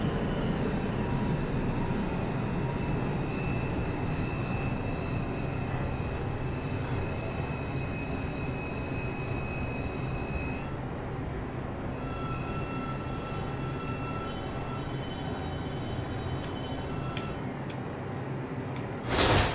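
A Brooklyn-bound 3 train on the IRT Subway mainline in Roblox rolls along with a continuous low rumble, while high wheel squeals rise and fall over it throughout.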